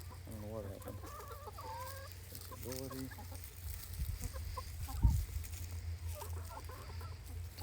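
Free-range hens cluck and chatter nearby in short, irregular bursts over a low background rumble, with a few louder squawks and scuffling sounds in between.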